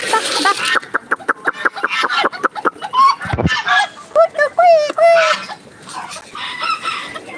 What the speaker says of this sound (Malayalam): കുറച്ച് താറാവുകൾ അവിടെ ഫുഡ് കഴിക്കുന്നുണ്ട്